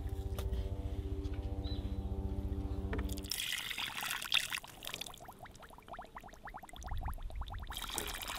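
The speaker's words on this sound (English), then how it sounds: "as soon as our brine cools down, we're gonna pour that over the top" Homemade brine poured into a jar over pickled pike, a close splashing trickle that follows a steady humming tone, coming in uneven gurgling bursts with no talking.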